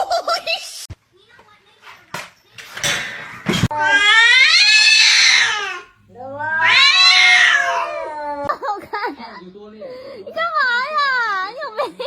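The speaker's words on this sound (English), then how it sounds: "His meow is so cute." A kitten gives loud, drawn-out meows and screeching wails in several long bursts, close to the recorder, with short sharp noises between the cries.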